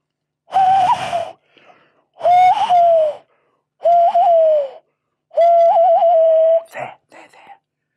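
An owl hoots in a forest at night, four drawn-out, wavering calls separated by short pauses, then a few brief fainter sounds. The calls are loud and close and have a breathy, voiced quality, like a person imitating the owl.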